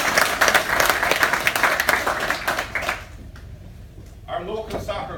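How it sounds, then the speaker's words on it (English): Audience applause for the Achill pipe band, a dense burst of clapping that fades out after a few seconds, with scattered claps and a voice rising again near the end. "they deserve a big round of applause for that"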